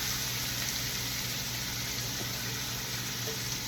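Chopped onion drops into a hot pot for jambalaya and sizzles loudly in oil, a dense, steady frying hiss that stays constant throughout with no talking.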